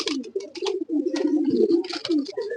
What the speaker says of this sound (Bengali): এটা আমার একটা কালেকশন করা কবুতর এটা অ্যালুমিনিয়াম কবুতর